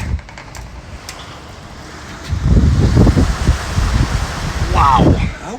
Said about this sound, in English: And good God, is it windy this morning.